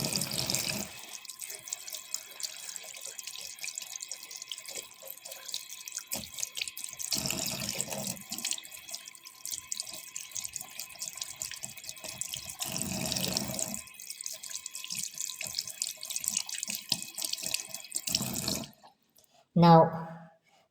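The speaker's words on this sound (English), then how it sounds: "now we are going to rinse it again" Water from a tap runs steadily into a sink as TENS/EMS self-adhesive electrodes are rinsed, with splashing bursts that rise and fall as the pads move under the stream, then stop near the end with a short clunk.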